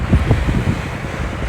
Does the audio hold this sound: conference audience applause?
no